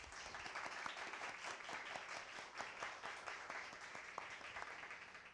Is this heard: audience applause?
yes